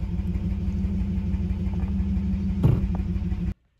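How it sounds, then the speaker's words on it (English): A Nissan 300ZX Z31 with a freshly adjusted clutch idles and runs steadily up close, the low engine drone holding even before a brief bump and an abrupt cutoff. "after driving the Z for a little bit around the block"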